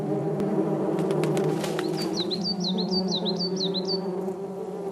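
Hornets buzz steadily at their nest, a close continuous drone with faint bird chirps briefly rising over it.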